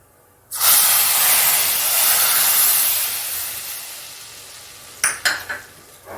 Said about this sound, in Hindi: अब गैस को बंद कर देंगे और इसका तड़का लगाएंगे खिचड़ी के ऊपर।